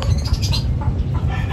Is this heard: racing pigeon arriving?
yes